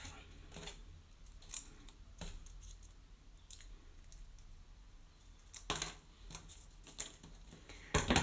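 Scissors snip paper for a handmade Greater Star of Bethlehem wildflower, giving several short, crisp cuts spread across a quiet tabletop with no talking.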